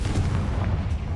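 A Confringo fire spell blasts in Hogwarts Legacy, a dense rumbling burst of explosive booms that fills the moment, loud and close with no pause.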